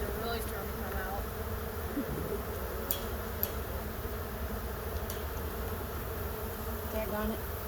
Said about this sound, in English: Now the bees are really starting to come out.